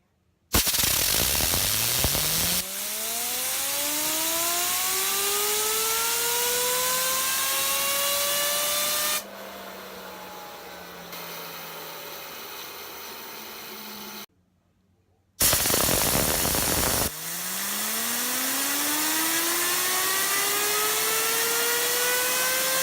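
An Axis Micro fidget spinner whirring up after each flick, a steady close hum whose pitch rises as it spins, dropping to a softer tone partway through, then a second flick starts the whir again.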